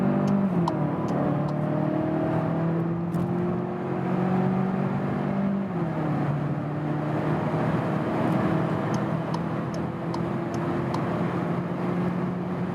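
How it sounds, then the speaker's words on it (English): A Volkswagen Passat GTE plug-in hybrid with a small-displacement engine accelerates hard, its engine drone climbing steadily in pitch, dropping briefly at a gear change, then rising again under constant road and wind noise from inside the cabin. "now I'll just combine the acceleration, 40 kilometers an hour"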